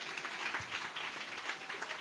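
A church congregation claps loudly during a Telugu pastor's youth sermon in Odisha, a dense, continuous wash of many hands with no voices standing out.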